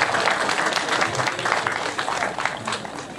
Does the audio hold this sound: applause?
yes